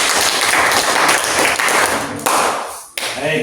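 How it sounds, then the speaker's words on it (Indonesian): A classroom audience claps after a student presentation, a loud burst of applause that thins out toward the end, with voices mixed in. "Baik, tepuk tangan dulu."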